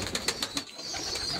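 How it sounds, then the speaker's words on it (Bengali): Native breed pigeons coo close by in a short series of soft, repeated calls with a steady rhythm, and no voices are heard. "এটা দেশীয় জাতীয় কবুতর"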